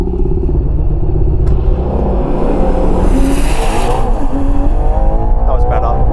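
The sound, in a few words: 725hp Ferrari Purosangue SUV accelerating on quarter mile run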